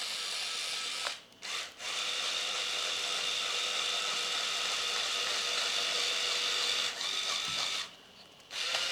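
Small 3D-printed Archimedes screw drive vehicles run across carpet, their motors giving a steady high mechanical whir broken by a few short pauses, close and moderately quiet with no talking.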